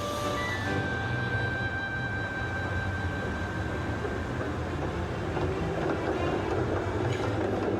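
Electric streetcar running on rails beneath overhead wires, a steady loud rumble with faint tonal whine and squeal, alone without voices throughout.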